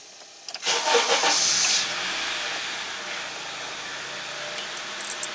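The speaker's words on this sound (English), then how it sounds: "Start the engine." A 2005 Honda CR-V engine cranks and catches, a short loud starter burst that settles into a steady, hissing idle.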